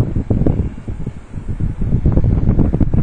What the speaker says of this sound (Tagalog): Nagngangalit ang hangin.